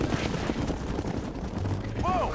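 Bombs explode in Red Dead Redemption during a cattle stampede mission, a dense, loud rumble of blasts and crackling bursts throughout, with a brief whistling tone near the end.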